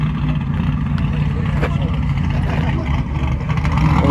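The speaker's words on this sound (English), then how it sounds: "It sounds like a drag car." A drag car engine runs at a dragway car show, a loud, continuous, throaty rumble filling the air while people talk nearby.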